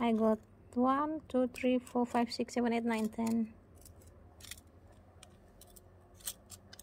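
Scissors snipping the heads off Letizia succulents, several faint, sharp clips in a quiet space after a stretch of sung speech from a woman.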